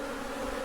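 Honeybees buzz around backyard beehives, a steady, close droning hum that fills the short moment.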